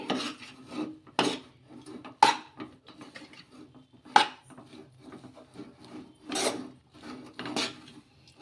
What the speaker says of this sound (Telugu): ఈ రెండు అంతా కూడా కలిపేసుకోవాలి చూడండి ఇలా ఈ విధంగా దగ్గర పడే వరకు కలిపేసుకోవాలి